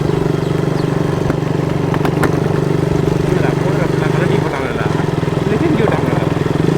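A motorcycle engine drones steadily up close with a pulsing throb, voices talking over it, and the pitch dips briefly midway.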